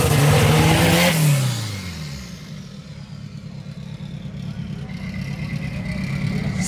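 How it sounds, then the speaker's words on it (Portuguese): A turbocharged VW Gol with an aftermarket downpipe revs hard and loud up close, then settles into a steady, throbbing idle-level drone that rises slightly again toward the end, with no talking. "Esquentadinha de pneu."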